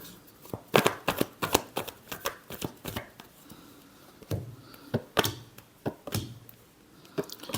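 Tarot cards being shuffled by hand in repeated quick riffling bursts, close and fairly quiet, with short pauses between rounds.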